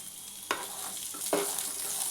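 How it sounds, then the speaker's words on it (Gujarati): Green chilies are stirred and sautéed in a frying pan over a steady oil sizzle, with two distinct scraping knocks of the spoon close by. "મરચીને પણ આ રીતે હલાવતા રહી અને સાતળી લેશું"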